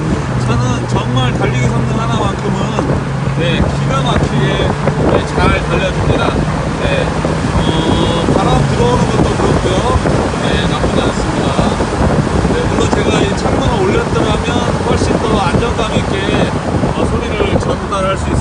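A Mini Cooper S convertible drives with its roof open, steady wind buffeting and road rush filling the cabin throughout, a low engine drone underneath, with a voice speaking briefly over it.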